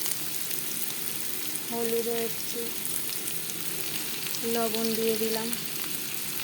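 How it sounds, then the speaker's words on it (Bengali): Potatoes sizzling in oil in a pan while being stirred with a spatula, a steady fry hiss with scraping stirs beneath, as someone talks over it. "একটু খুন্তি দিয়ে একটু নাড়তে, আলুটা ভাজা হচ্ছে"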